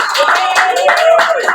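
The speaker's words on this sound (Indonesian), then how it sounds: "tanpa disuruh tepuk tangan ngasih tepuk tangan" Clapping from an audience at a Kartini Day talk show, a brief burst of scattered hand claps mixed with a voice speaking over it.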